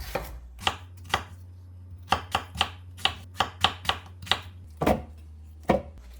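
A knife julienning vegetables for scallion kimchi knocks steadily on a cutting board, giving a dozen or more crisp, close strikes in a quick, slightly uneven rhythm with brief pauses.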